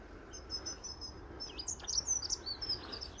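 Small birds chirp near a water-filled ditch at Lackford Lakes nature reserve in Suffolk: scattered, fairly faint high tweets over a soft outdoor hush, with no voices.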